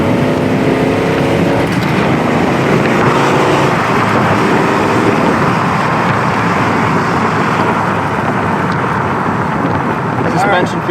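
A 1969 Chevelle convertible engine roars under hard acceleration, a loud, sustained, rising drone heard from inside the car with wind rush and voices talking over it.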